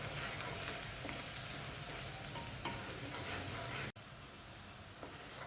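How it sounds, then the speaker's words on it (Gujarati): Onions sautéing in a pan over a medium gas flame for a green chickpea curry: a steady, close, dense sizzle and crackle that runs throughout with a brief dropout partway, with no talking. "હવે આપણે આને સરસ 1-2 મિનિટ સુધી સાતળી લેશું"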